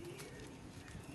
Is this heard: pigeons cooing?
yes